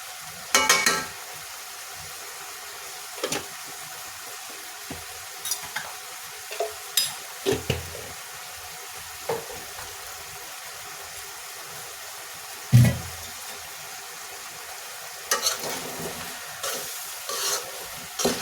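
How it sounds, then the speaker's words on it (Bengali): Beef for nihari is stir-fried with chili powder: steady low frying hiss under scattered scrapes and clinks of a spatula against the pot, with one louder knock. "দিয়ে আমি ভালো করে মাংসটা কষিয়ে নিব।"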